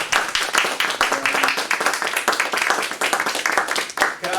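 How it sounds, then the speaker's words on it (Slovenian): Audience applause at the close of a science lecture on epidemics and coronaviruses: dense, sustained clapping from a crowd, steady and fairly loud throughout. "Jaz mislim, da lahko en velik aplavz damo Mojci dan za naše predavanje."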